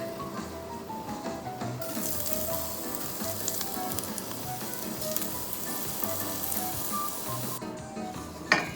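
Steady, close sizzling of garlic and flour frying in hot olive oil, a continuous crackling hiss with occasional stirring scrapes and no voices.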